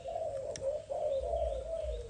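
A Malaysian spotted dove coos in a steady, soft, low repeated call that runs almost continuously, faint and somewhat distant, with light background rumble and no talking.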